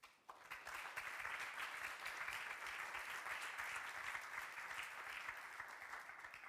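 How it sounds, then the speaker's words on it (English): Sustained applause from an audience, a dense, steady clatter of many hands clapping that starts abruptly and continues without pause. "Please give them an applause."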